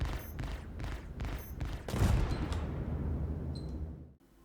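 Hornet F7A Mk 2 fighter weapons in Star Citizen, loaded with laser repeaters, laser guns and ballistics: a loud rapid volley of repeated shots, then a heavier sustained burst that fades out, no talk.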